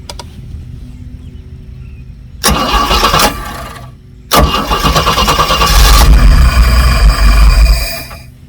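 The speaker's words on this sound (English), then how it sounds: "So we'll start." A Sunbird boat engine cranks briefly, stops, then cranks again and catches, settling into a loud, steady running rumble close by.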